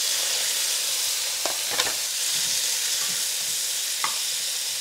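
Chopped tomatoes and dried red chilies frying in hot oil for a tomato chutney, giving a steady loud sizzle with a few soft stirring knocks on top.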